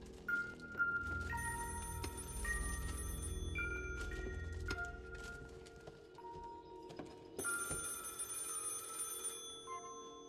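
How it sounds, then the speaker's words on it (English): A telephone rings in the black-and-white steampunk video game White Shadows, with repeated ring bursts over a low mechanical hum and scattered clanks, moderately loud with no talking. "That'll be the phone."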